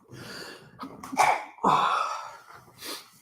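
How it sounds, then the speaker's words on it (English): A couple of sneezes ring out close by, a sharp one followed by a longer, fuller one, then a softer breathy burst near the end. "A bit of sneezing."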